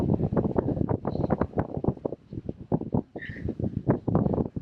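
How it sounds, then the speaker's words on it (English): Strong wind buffets the microphone outdoors on the Isle of Lewis in the Hebrides, loud gusty thumps and rumbles pulsing irregularly throughout. "As if you can hear me in this wind."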